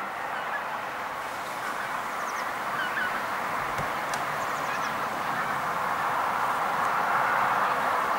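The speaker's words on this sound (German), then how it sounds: "Ja, es klingt eher wie Gänse." A flock of geese honks while flying overhead outdoors, a faint, distant chorus of calls drifting above a steady background hiss.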